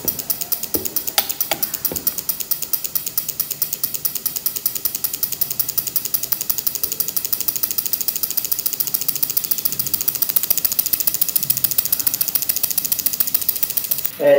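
A Hyundai Accent engine, its ignition and injectors driven by a controller, idles at an adjusted RPM, giving a fast, even mechanical ticking that runs steadily throughout, fairly close and alone.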